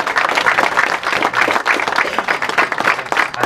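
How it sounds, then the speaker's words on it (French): A crowd at a cycling club's rider presentation applauds loudly and continuously for a young racer, a dense wash of clapping filling the room. "on l'applaudit bien fort"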